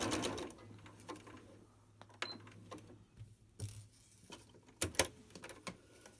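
Sewing machine stitching a seam on a four-piece quilt block, a close, faint mechanical whir with soft ticking needle strikes and small handling clicks in bursts.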